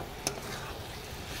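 Chopped snake gourd (chichinga) frying in a pan with a little sugar gives a faint, soft sizzle, broken once by a single quick scrape of a spatula stirring it.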